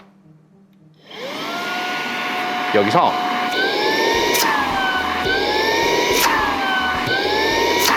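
A budget cordless vacuum cleaner starts up in basic mode with a sudden rise into a steady, loud motor whine, its pitch shifting as a hand covers and uncovers the suction; a voice speaks briefly over it.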